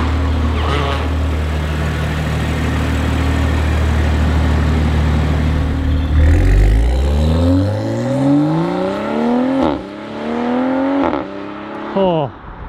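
Toyota Supra with a modified exhaust, a deep steady idle rumble that swells into rising revs, the pitch climbing in repeated pulls up close, with people talking over it.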